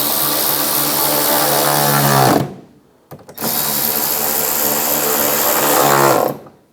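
Power tool driving the lower inner fender liner screws on a 2015-2020 Cadillac Escalade, two loud close bursts of whirring roughly two seconds each with a short pause between, no talk.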